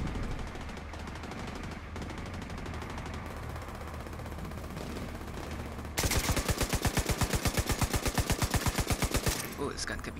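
Rapid automatic gunfire in the shooter game Tom Clancy's The Division 2, a loud, sharply rhythmic burst of evenly spaced shots after several seconds of quieter background, with talk nearby.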